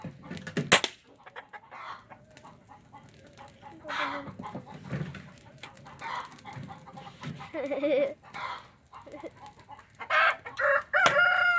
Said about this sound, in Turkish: Her yer tavuk kaynıyor lan. Tavuk tavuk tavuk.